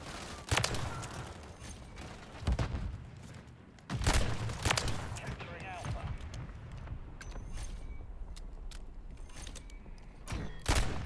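RW1 pistol in a video game, with several sharp gunshots and clacking reload mechanics spaced across the span, loud bursts separated by quieter handling noise and background game ambience.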